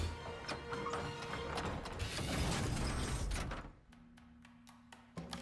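A modern spring-driven music box with a pinned cylinder and 329 coordinated parts whirs and clicks densely for several seconds, then settles into a quieter steady hum with sparse metallic ticks.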